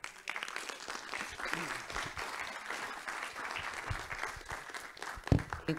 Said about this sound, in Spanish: un aplauso, por favor, para nuestro ponente